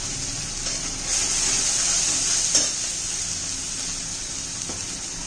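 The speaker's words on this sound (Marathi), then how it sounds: "चांगलं तेल सुटेपर्यंत परतून घेऊया." Homemade ground masala paste with onion and garlic frying in oil for mutton curry, a steady close sizzle throughout with a few soft stirring scrapes and no talking.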